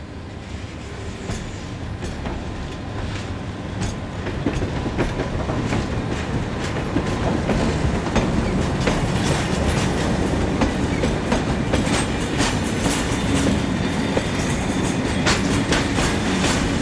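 Marseille-based locomotive 7272 hauling a freight train out of Miramar yard, a steady rolling rumble with rhythmic clickety-clack of wheels over rail joints, building slightly in loudness and continuing throughout with no talk.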